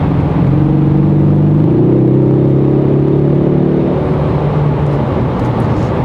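A 2024 Ford Mustang EcoBoost 2.3 coupe's exhaust in sport mode idles with a deep, steady burble, then rises briefly in pitch as the engine revs before settling back; loud and close, no talking.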